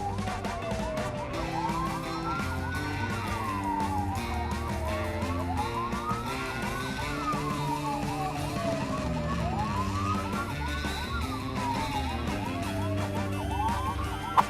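An ambulance siren wails steadily up and down in repeating rising and falling sweeps, heard from on board the vehicle, loud and continuous with the engine and road noise beneath it.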